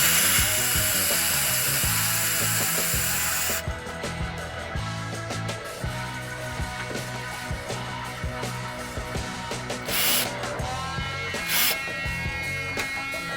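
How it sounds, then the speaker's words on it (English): Hand tools work on 10mm bolts securing the intercooler to the radiator of a 2001-2006 T1N Sprinter van, with irregular metallic clicks and ratcheting over a steady background hum, all close and moderately loud. "I'm also going to unbolt the intercooler here"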